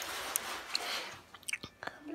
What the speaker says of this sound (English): If you want to know why I'm chewing gum, it's because I'd like to.